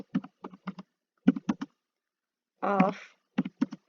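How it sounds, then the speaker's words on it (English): Chart title being typed on a computer keyboard: bursts of quick, close key clicks in short runs, with a pause midway and a brief spoken word between them. "we will type the title"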